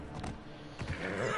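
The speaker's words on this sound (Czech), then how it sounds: "No což já volám koně, že jo" A horse in the video game Assassin's Creed Odyssey (Atlantis DLC) lets out a short, close neigh that rises into a bright whinny near the end, heard alone with no talking.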